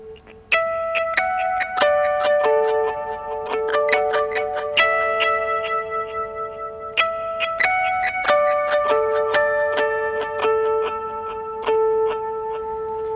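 Clean electric guitar on the bridge pickup picks bell-like harmonics from a song intro, with mid boost and delay echoing each note, a steady ringing melodic line alone.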